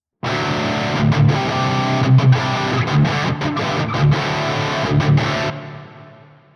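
Loud distorted electric guitar through a Soldano SLO-100 amplifier with reverb engaged, strumming chords in a steady pattern, ending with a long washy tail that fades out slowly after the playing stops.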